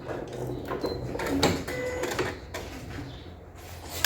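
A home sewing machine runs a zigzag stitch on fabric for a zippered pouch, a close mechanical whirring and rapid clatter in short bursts with small clicks between.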